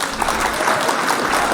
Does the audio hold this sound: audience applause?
yes